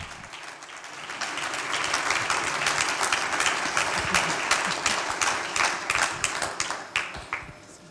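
Audience applause for a historian and Holocaust survivor coming forward to speak, swelling into a steady clapping crowd, then thinning toward the end into fewer, more distinct individual claps.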